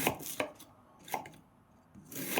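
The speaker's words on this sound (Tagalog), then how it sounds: "Kaya hinihiwa ko siya pino" A knife chops firm, hard cabbage finely on a board for sotanghon guisado, giving sharp close thuds in uneven bursts with short pauses between, no talking.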